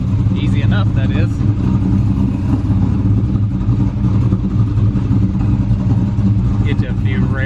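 An E85-fueled car engine with nitrous runs loud and close with a few blips of revving over a rumbling idle, while people talk over it.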